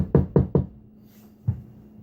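Three quick sharp knocks on a door, then a pause and a single knock, all close and dry with no voices.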